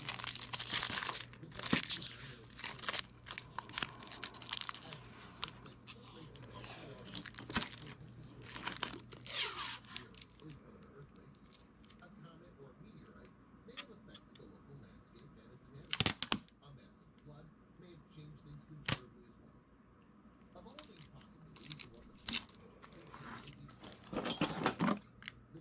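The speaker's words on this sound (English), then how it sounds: "look at me messing up my tape" Tape crinkling and tearing in repeated sharp bursts while a 12v lithium battery pack is assembled with nickel strips, close up, clustered at the start and end, with some quiet talk in between.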